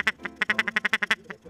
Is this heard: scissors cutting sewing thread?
no